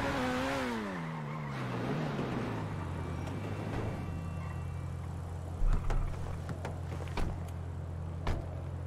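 A car engine idling in the video game GTA 5, starting with a falling rev that settles into a steady low drone, with scattered clicks and thumps over it, moderately quiet and with no speech.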